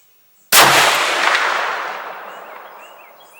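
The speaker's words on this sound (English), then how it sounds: "So run 3 5-shot groups through it to sort of foul the barrel" A single loud 6.5 Grendel rifle shot at an outdoor range cracks sharply after a brief silence, then its echo rolls away in a long fading tail.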